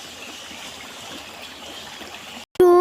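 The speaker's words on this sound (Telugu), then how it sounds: "ఒక్కసారి వాటర్ సౌండ్ ఫీల్ అవ్వండి" Water flowing steadily at Manjeera dam, a broad rushing wash heard close and fairly loud, ending abruptly with a sharp tonal noise.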